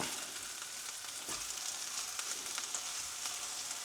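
Burger patties sizzle steadily in a frying pan just after being flipped, a close, even crackle with faint pops throughout and no talking.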